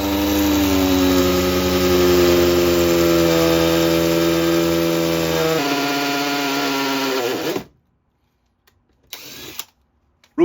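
A DeWalt power drill with a 7/32 inch bit bores a pilot hole for self-tapping machine screws in a toy hauler, a loud, steady whine that drops in pitch as it loads, then stops, followed by a brief tap.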